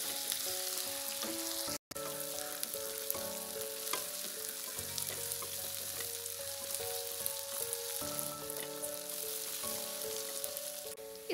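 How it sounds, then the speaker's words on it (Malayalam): Onions and aromatics sauté with salt in a pan for a clam roast, giving a soft, steady sizzle with occasional light stirring, faint under a melodic music bed. "അതുവരെ നമുക്കിത് വഴറ്റിയെടുക്കാം. കുറച്ച് ഉപ്പും കൂടെ ചേർത്ത് കൊടുക്കാം."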